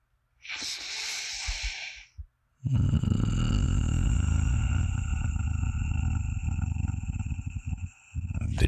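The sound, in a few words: person imitating a cat's gentle purring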